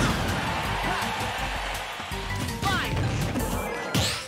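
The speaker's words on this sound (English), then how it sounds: "Make this whole stock just up smashes." Repeated up smash attacks in Super Smash Bros. land as a few crashing, thwacking hits with swooshing effects over steady game background, louder near the end, while a player talks faintly underneath.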